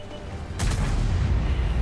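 The gun of a WZ-113G FT tank destroyer fires once in World of Tanks, a sudden heavy boom that is followed by a rumbling low tail and engine noise.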